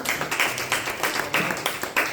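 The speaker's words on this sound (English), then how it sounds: "Give them a round of applause again." An audience at a talk on sci-fi and comics claps steadily in a small room, the irregular hand claps close and moderately loud, running for a couple of seconds with no voices.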